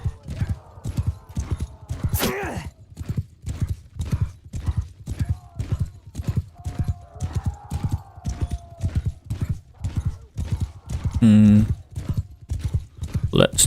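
Horse hooves galloping in the video game Bannerlord, a fast regular clip-clop rhythm that runs loud and steady throughout, with a brief whinny near the end and someone talking over it.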